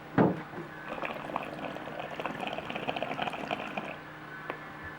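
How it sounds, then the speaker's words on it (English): Water bubbling and gurgling through a coconut bong, a burst of rapid bubbles that follows a short knock, fairly quiet and close, with no speech. "like a pot bubbling sound that it makes when the water is just enough"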